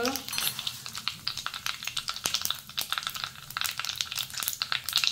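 Mustard seeds, cumin and asafoetida crackle and sizzle in two spoons of hot oil for tempering, with sharp irregular pops and spits close up and a steady frying hiss underneath.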